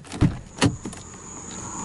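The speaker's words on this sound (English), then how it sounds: "If I open my driver's side door," A 2018 VW Golf R's driver's side door opens with two sharp latch clunks and a softer third knock, followed by a quiet interior hum, with no talking.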